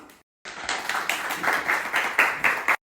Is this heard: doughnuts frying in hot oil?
no